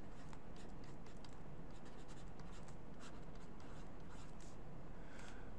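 Pen scratching across paper in short repeated strokes while values are jotted down, close and soft over a steady low background hum.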